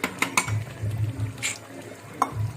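Mutton is stirred and braised in a pot, giving soft scraping and clinking of a utensil against metal. A few brief sharp clacks cut through a low sizzle, and it all stays fairly quiet with no voices.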